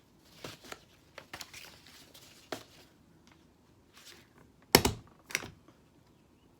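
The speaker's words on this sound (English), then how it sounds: "I'm going to use the stapler." A stapler punching through a small handmade paper book of crayon drawings, giving a few sharp, close clicks with a louder crunching press near the end amid light handling rustles.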